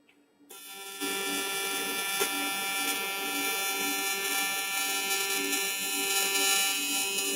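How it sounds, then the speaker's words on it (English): Arc welding a ring onto a cast aluminium intercooler: after a brief quiet start, a steady loud electrical buzz with a tonal hum that runs on unbroken and close. "I haven't tried welding one of these rings with the arc shot cam"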